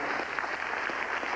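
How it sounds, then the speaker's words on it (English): An audience at an evening gathering claps together in a steady, even patter, a short burst of applause heard fairly close and without any voices over it. "Let's give them a round of applause."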